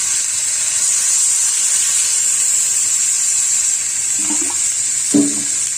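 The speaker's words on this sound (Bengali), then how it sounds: "এবার আমি এর মধ্যে দিয়ে দেবো জল।" Water poured into a pan of cooked-down egg curry masala gives a steady hissing, sizzling wash that runs the whole time, with a couple of faint clinks near the end.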